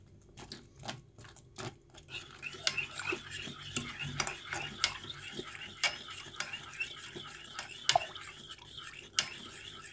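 A spoon stirs boiled chickpeas into yogurt tarhana soup in a pot, giving repeated sharp metallic clinks and scrapes against the pot over a soft bubbling background, close and fairly quiet, with no talking.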